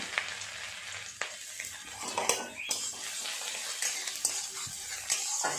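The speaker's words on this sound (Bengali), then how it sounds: "ভালো করে একটু আদা রসুনটাকে নেড়ে নেব" Chopped garlic, ginger and green chili are stir-fried in oil for egg chili, a soft sizzle under repeated scraping and tapping of a spatula against the pan.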